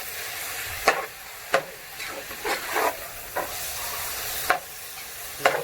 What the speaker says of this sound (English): Keep it stirring nicely.